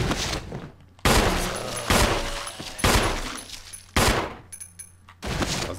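Gunshots from a Resident Evil game on Xbox One, about half a dozen heavy, evenly spaced blasts roughly a second apart, each loud and close with a short ringing tail.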